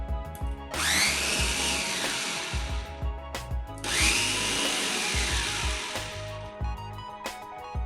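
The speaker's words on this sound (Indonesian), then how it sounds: "selanjutnya blender secara bertahap seperti ini" An electric blender whirs through soaked mung beans and water in batches, two loud motor bursts with a rising whine, each running a few seconds and then cutting off, with clunks of handling between them and no voices.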